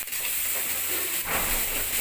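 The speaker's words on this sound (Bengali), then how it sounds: "এখানে পেঁয়াজ ভাজা আর দারচিনি, এলাচি সব কিছু একসঙ্গে দিয়ে দিলাম। একটু ভাজা ভাজা করে নেব।" Fried onion, cinnamon and cardamom sizzling in hot oil in a pan, a loud continuous hiss and crackle close up that swells briefly partway through.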